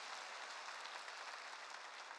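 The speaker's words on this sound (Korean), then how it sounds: "박수 칩시다" Applause from a church congregation during a Korean worship service, a steady broadband patter of clapping hands that stays fairly quiet and even across the short stretch with no voices over it.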